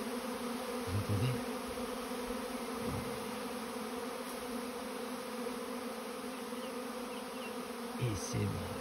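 Thousands of swarming honeybees buzz in a dense, continuous hum nearby in a garden, with brief louder passes of single bees flying close.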